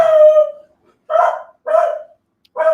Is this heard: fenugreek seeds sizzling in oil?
no